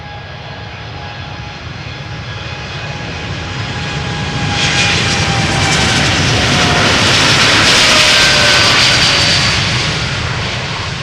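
An Air Canada jet airliner's engines roar steadily at Schiphol's Polderbaan runway, swelling louder midway with a broad rushing whine as it takes off, then holding strong without any talk.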